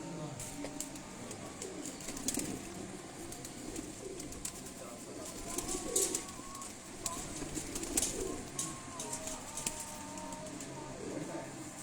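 Pigeons kept on a rooftop loft coo softly in repeated low, throaty phrases, with scattered chirps and clicks over a quiet background.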